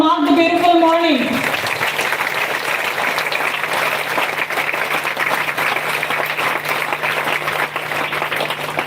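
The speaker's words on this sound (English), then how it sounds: "a good round of applause to mark the beautiful morning" Loud, sustained round of applause from a crowd gathered for a 75th Independence Day morning celebration, beginning right after a voice finishes speaking and continuing steadily to the end.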